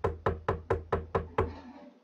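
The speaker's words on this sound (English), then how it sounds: "A sharp knock on my door jerks me out of sleep." Seven sharp knocks on a door in a video game, evenly spaced about a quarter second apart, loud and close, the last one trailing into a soft ringing decay.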